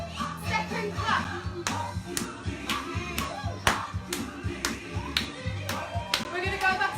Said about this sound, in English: Step and clap.